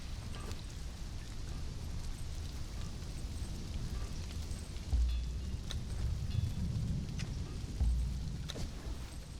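Steady rain falling in the survival game Conan Exiles, a continuous broadband hiss with a few deeper rumbling swells, heard alone at moderate loudness.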